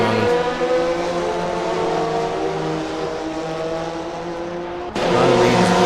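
GT race cars battle at the Red Bull Ring in a sim racing game, loud sustained engine whine with shifting pitch as cars rev and accelerate, another car's engine cutting in abruptly near the end.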